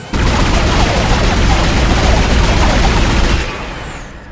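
A weapon's secondary fire in the game Dead Space lets out one loud, sustained roaring burst lasting a few seconds, then cuts off into a short fading tail.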